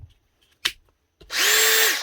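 A Metabo cordless drill on low speed backs out a long center screw during a teardown, with a few soft clicks and handling knocks and then a loud, steady whine of the motor that ends abruptly.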